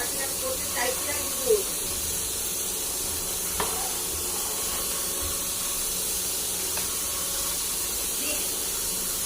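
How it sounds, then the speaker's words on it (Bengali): Rice boils in water in a pot, a steady soft hiss and bubbling simmer with occasional faint clinks, continuous and fairly quiet at close range. "ভাতটা ফুটছে"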